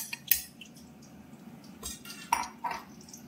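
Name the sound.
fried potatoes added to mutton in cooking pot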